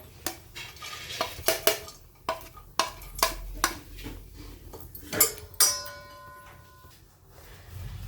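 Chopped dry fruits being roasted together in a metal pan for rice kheer: a run of sharp spatula scrapes and clinks against the pan, irregular and close, with a faint ringing metallic tone near the end.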